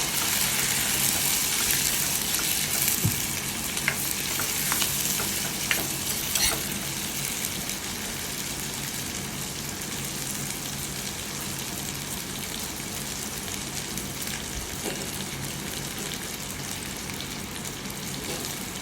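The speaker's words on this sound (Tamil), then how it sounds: "தக்காளி ஆட் பண்ணி கொஞ்சம் நல்லா வணங்குற வரை வெயிட் பண்ணணும்" Onions and tomato fry in a pan for a mutton curry, a steady close sizzle with faint stirring scrapes, louder for the first few seconds and then settling into an even crackle with no talking.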